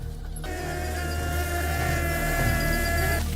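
A wild honeybee hive in a forest tree gives off a dense, droning buzz that swells in after a brief quiet moment and holds steady and close.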